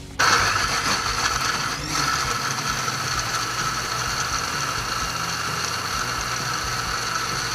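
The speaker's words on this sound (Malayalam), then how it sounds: "സവാള അത് മിക്സിയിലിട്ട് പേസ്റ്റ് ആക്കാൻ വേണ്ടി പോവുകയാണ്" A mixer grinder blends sautéed onion into a paste for butter chicken, a loud, steady whirring drone running without a break from start to finish.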